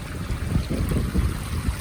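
Wind blowing through Santa Fe National Forest, low buffeting rumble with uneven gusts pushing against the microphone, fairly close and moderate in level.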